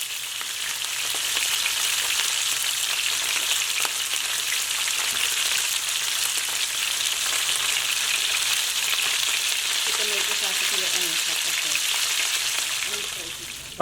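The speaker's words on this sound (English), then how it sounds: "we're going to continue frying out the rest of the fish" Steady loud sizzling of fish frying in hot oil, a continuous crackling hiss with occasional faint clatter near the end.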